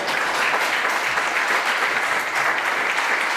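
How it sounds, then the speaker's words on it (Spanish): A church congregation claps for the Lord during a sermon, steady, dense applause filling the room without pause and no voices on top. "Denle un aplauso al Señor."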